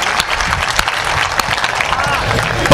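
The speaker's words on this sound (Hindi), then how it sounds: "एक बार सारी तालियां उसके नाम पर बज जाएं" An audience at a Hindi poetry recital bursts into loud, dense applause, a sustained wash of many clapping hands with no pause throughout.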